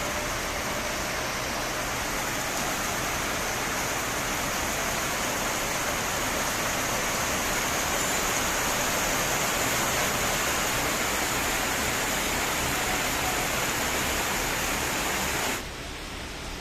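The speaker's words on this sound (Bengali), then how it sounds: "প্রচুর বৃষ্টি হইতেছে সারা রাত সারা দিন" Heavy rain pours steadily outdoors, a dense, loud, unbroken hiss that carries on throughout with no voices.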